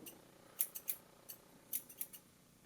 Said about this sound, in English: And we got these scissors. These really weird scissors.